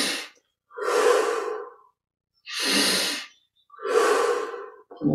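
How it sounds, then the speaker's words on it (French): Slow, deep breaths during a yoga exercise: three long, loud inhale–exhale cycles, each lasting about two seconds and separated by short pauses, heard close and alone with no talking. "20 à 25 respirations profondes"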